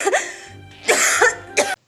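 Three harsh, raspy coughs in quick succession, close and loud, with brief pauses between them.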